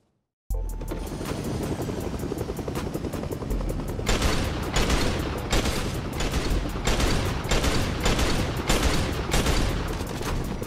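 Rapid, loud bursts of gunfire from a mythic weapon in Fortnite, tied to a Deadpool collaboration, fire in a steady rhythm of repeated shots over a dense background of game noise, growing heavier partway through.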